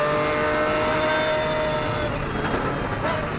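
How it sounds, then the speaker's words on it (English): A Lamborghini race car competing in the 2008 FIA GT round at Silverstone gives a loud, steady engine drone heard from onboard, holding high revs with slight shifts in pitch and no talk. "Great sound the Lamborghini makes."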